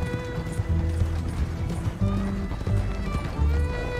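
Hoofbeats of a galloping horse in Red Dead Redemption 2 drum in a rapid rhythm alongside low rumbling game sound, with music tones and someone speaking now and then.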